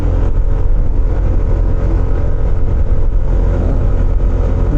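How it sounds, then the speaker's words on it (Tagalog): A motorbike engine labours up an uphill road on the way to a beach resort in Lobo, Batangas, a steady, loud, continuous drone with wind rumble throughout. "medyo yung motor natin lumalaban na sa paakyat"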